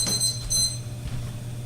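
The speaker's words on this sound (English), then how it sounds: "So the timer just went off." A kitchen cooking timer goes off while a roast cooks in a 325-degree oven, giving two short bursts of high electronic beeping over a low steady hum.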